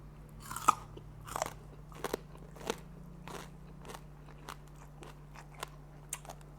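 Someone eats Thai nam phrik kapi with mango and fresh vegetables, giving a dozen or so sharp, close crunchy bites spaced about half a second apart over a steady low hum, with no talking.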